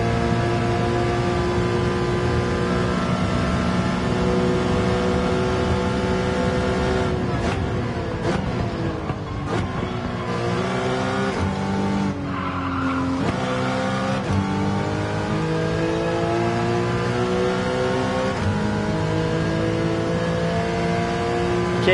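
Porsche Cayman with a mid-mounted engine in Gran Turismo 7, racing in Sport Mode on the Green Hell circuit: a loud, continuous engine drone with rising and falling revs and gear shifts in the middle, and no talk.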